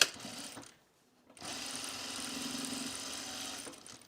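A home sewing machine stitches the hem of a self-drafted blouse, a steady close motor whir with rapid needle rhythm in two runs separated by a brief silent pause, no voices.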